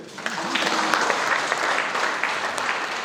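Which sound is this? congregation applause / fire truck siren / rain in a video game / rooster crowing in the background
congregation applause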